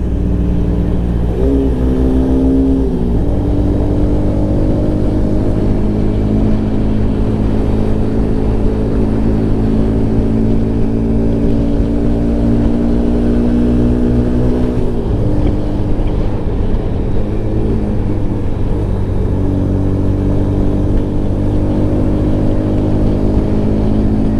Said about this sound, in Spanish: vamos allá a la conducción y los voy a dejar un momentico solo con la conducción